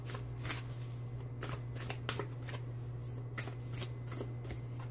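Oracle cards are shuffled close up for a tarot reading, a continuous riffling and rustling with frequent quick bursts over a steady low hum, with no voice heard.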